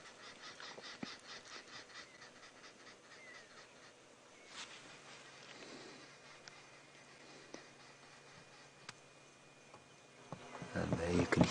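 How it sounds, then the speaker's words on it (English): Arrow-marked babblers on a wildlife safari drive chatter in a harsh, rhythmic group chorus, faint and distant at first, then growing louder near the end, with someone talking quietly over it. "And there you can hear there's some arrowmark babblers"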